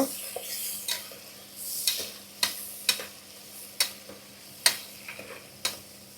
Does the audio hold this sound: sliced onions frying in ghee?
yes